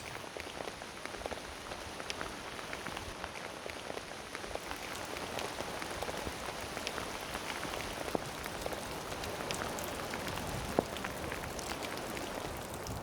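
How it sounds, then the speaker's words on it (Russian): Steady light mountain rain in Arkhyz, Russia, patters on surfaces, a continuous soft hiss of drops with occasional louder ticks nearby, no voices. "сейчас капает небольшой дождь"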